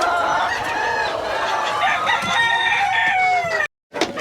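Loud, nearby chickens clucking with a rooster crowing over them, a busy overlapping flock chorus that cuts out briefly near the end.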